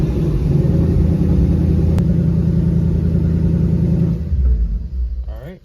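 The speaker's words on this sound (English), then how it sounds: "now we had the car run for 20 seconds" A brand-new 2024 Ford Mustang GT S650 with its Coyote V8 idles close by, a steady deep rumble that holds evenly for about four seconds and then cuts off abruptly as the engine shuts down.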